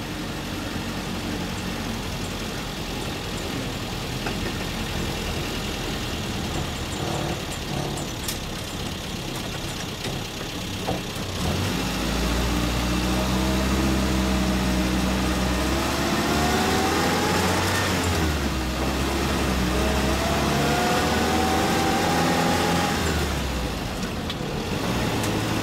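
Land Rover Lightweight heard from inside while driving, a continuous loud engine drone with whining transmission noise rising and falling, steady road rumble, no talking.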